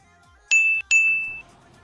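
Two bright electronic chime tones from a phone locking in quick succession, clean and close, ringing out briefly over near silence.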